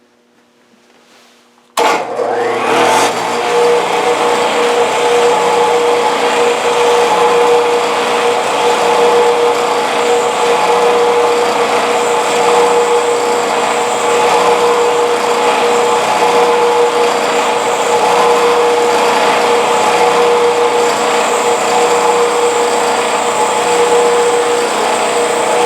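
A Lamson multi-stage centrifugal blower starts abruptly and then runs loud and steady, a constant rushing drone with a tonal hum that carries on without a break.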